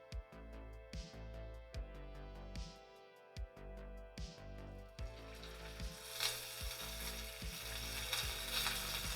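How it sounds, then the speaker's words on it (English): Sous vide tri-tip searing in a hot cast iron pan: a sizzle that swells loud and dense over the last few seconds, broken by repeated knocks and clanks of meat and utensils against the pan, with no talking. "I'm gonna do a 1-minute sear on each side of these."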